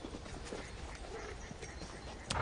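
A lame mare's hooves clip-clop at a walking pace on a rural wartime road, a steady, uneven knocking that sits inside a constant wash of background noise, with a louder clatter near the end.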